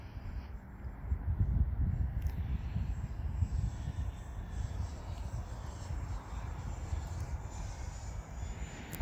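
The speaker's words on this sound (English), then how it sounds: "I like that little jet." A small radio-controlled model jet flies outdoors, its engine a steady broadband roar and hiss that holds fairly constant throughout, somewhat distant with wind-like rumble underneath.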